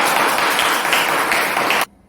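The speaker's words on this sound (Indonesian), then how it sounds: "Beri tepuk tangan dulu." A classroom of students applauds a group after its presentation, with dense, steady clapping from many hands that fills the room and then stops abruptly.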